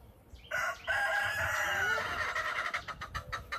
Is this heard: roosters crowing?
yes